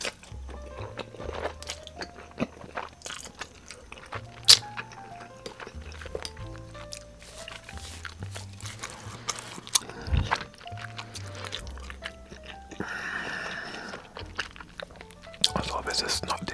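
Close, wet chewing and biting of cheesy Samyang noodles, with repeated soft crunches and squishy mouth sounds in an irregular rhythm, intimate and near, with someone speaking in between.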